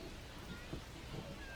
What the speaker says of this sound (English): There it's raining.